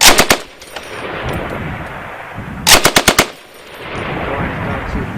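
An M240 Bravo machine gun fires two short bursts of about four rounds each on an outdoor army range, loud and sharp with echo trailing off, separated by a quiet gap with faint background noise.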